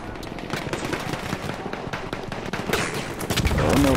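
Machine gun fire in Battlefield 1 rattles in fast continuous bursts with sharp, dense cracks, loud and close, over a busy battlefield din that swells near the end.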